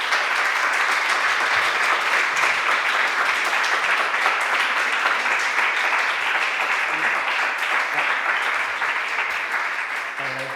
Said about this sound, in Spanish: Para ellas, un aplauso,